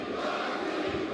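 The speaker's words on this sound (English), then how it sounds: "The chants are going on for Mohammad Wasim in the crowd" Arena crowd at a boxing bout chanting for Pakistani boxer Muhammad Waseem, a dense, steady roar of many voices with no break.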